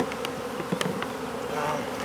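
Bees buzzing close by and attacking during early-morning handling of honey: a busy, overlapping drone of wings with individual insects zipping past near the ear, steady and moderately quiet, with no talk.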